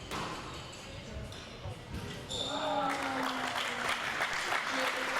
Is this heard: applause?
yes